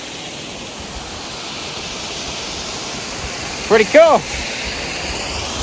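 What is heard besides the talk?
river flowing near a waterfall in the Ouachita, Arkansas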